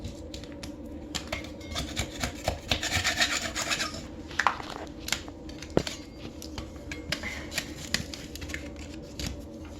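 Rhythmic scratchy rubbing of sandpaper on wood, short repeated strokes close up, with a few sharper ticks and knocks between.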